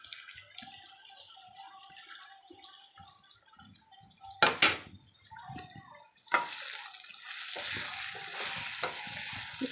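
Tender tamarind leaves go into a chicken curry in a hot pan, with a soft sizzle and stirring under a quiet background, then a sharp clatter and a louder, steady frying hiss that continues to the end.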